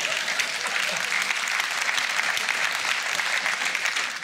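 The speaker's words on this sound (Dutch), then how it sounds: "Dat is het meest sadistische applaus dat ik ooit heb gekregen." Sustained applause from a comedy-show audience at a Flemish stand-up performance, dense and steady clapping filling the room for several seconds with no speech over it.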